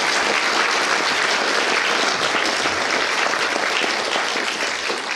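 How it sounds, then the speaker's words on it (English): An audience applauding the candidates at a candidates forum on Moscow's future, a loud, dense and even sheet of clapping from a full room that carries on for about five seconds without talk. "Please, let's give them another round of applause."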